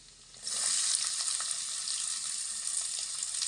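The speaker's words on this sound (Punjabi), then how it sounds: "ਹੁਣ ਆਪਾਂ ਪਿਆਜ਼ ਐਡ ਕਰ ਦਿੰਨੇ ਆ" Onions hitting hot oil in a pan with garlic and cumin already browned burst into a loud, steady sizzle after a brief quieter start, with faint stirring scrapes through the crackle.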